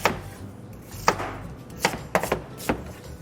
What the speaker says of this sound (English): So I usually just cut these apples in half